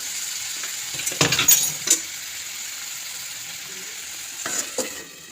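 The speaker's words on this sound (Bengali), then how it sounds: "এবার মশলাটাকে কষাবো।" Spice paste for a Kaikya (needlefish) curry is fried down in oil with a splash of water, making a soft continuous sizzle broken by a few sharp stirring scrapes and metallic clinks of a spoon against the pan.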